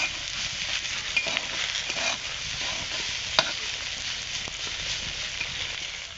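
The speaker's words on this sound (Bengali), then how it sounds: "দিয়ে ভালো করে নেড়ে চেড়ে দেবো" Potato greens with bottle gourd peel and a little sugar are stirred in a frying pan, making a steady, close sizzle with occasional sharp scrapes of the spatula.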